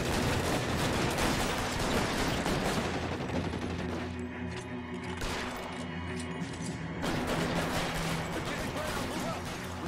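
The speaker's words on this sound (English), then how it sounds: "A lot of shooting." A heavy gunfire shootout in the L.A. Noire video game, continuous overlapping shots and rapid bursts ringing out loud and close, with a brief thinner stretch midway before the firing surges again.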